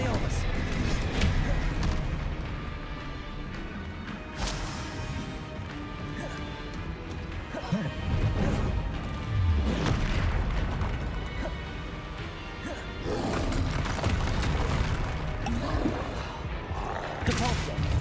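Spell explosions and magic blasts in Hogwarts Legacy, with repeated crashing bursts and booms over continuous game action, loud and dense throughout, with a voice calling out spell names between hits.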